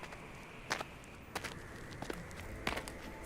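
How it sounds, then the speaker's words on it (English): Footstep sound effects in a bedtime story reading, a few soft, spaced thuds over a low rustling background, fairly quiet and with no talk. "Noises that sound like footsteps."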